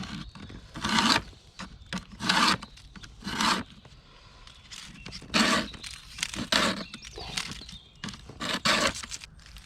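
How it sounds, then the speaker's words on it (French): A file sharpens a chainsaw chain in short rasping strokes, close and regular, coming in clusters of bursts with brief pauses between them and no voices. "J'ai passé un petit coup sur la chaîne, histoire de la réaffûter"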